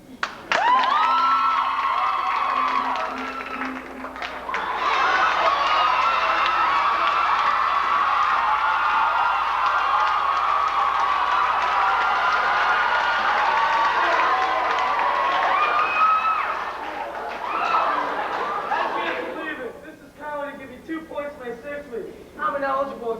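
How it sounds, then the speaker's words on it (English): A school audience at a 1990 event cheers and claps loudly for a student, a sustained crowd roar with shouts and whoops lasting about twenty seconds, then thinning into scattered clapping and voices. "Let's have a big round of applause for Derek."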